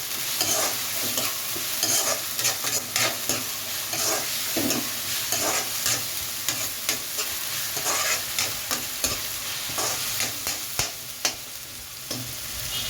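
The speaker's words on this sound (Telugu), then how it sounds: "అల్లం వెల్లుల్లి పేస్ట్ పచ్చివాసన పోయేంత వరకు మనం వేగించుకోవాలి" Ginger garlic paste frying in a pan for gongura chicken, a constant crackling sizzle broken by frequent quick stirring scrapes, close and continuous.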